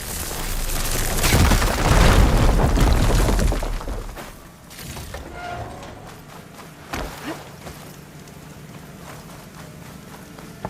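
Firegleam deposit blown up with the igniter in Horizon Forbidden West, a loud crumbling blast and roar lasting several seconds, then fading into quieter ambient rumble and scattered debris.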